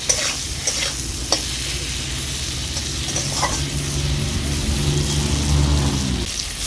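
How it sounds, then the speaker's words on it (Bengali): Potatoes coated in ground spices fry in a pan with a loud, crackling sizzle, and a spoon stirs and scrapes with a few sharp knocks against the pan. No one speaks. "আলুটাকে একটু আমি ভাজা ভাজা করে নেব।"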